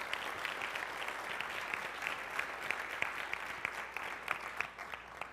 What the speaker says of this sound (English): Round of applause for Olivia.